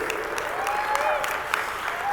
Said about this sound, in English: I want to give a big round of applause to Jake Hess, Solar Joe, Lindsay for putting such a great event together